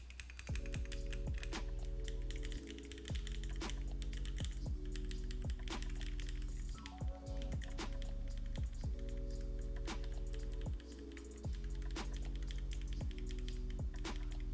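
Someone types steadily on an HHKB mechanical keyboard fitted with a test switch. The keystrokes are crisp, closely miked and come in quick uneven bursts over a constant low hum.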